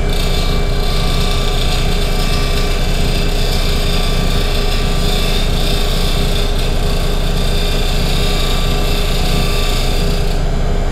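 A scraper tool held on its side shear scrapes wood spinning on a running woodturning lathe, making a loud, continuous rasping whir that stays steady throughout without any speech.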